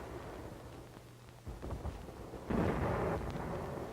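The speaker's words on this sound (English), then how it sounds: "Our artillery fired at the capital" Distant artillery fire during the WWII assault on Saipan toward Garapan, heard as low rumbling booms: a dull thud near the middle, then a louder sustained rolling blast, with no voices.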